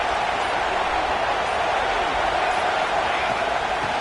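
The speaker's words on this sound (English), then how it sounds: "This crowd rising up, sensing that its defense needs some help." A stadium crowd at an Oregon vs Indiana college football game roars loudly and continuously, a dense wash of cheering and noise that swells as the home defense needs help.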